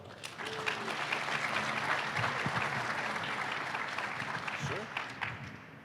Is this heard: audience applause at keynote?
yes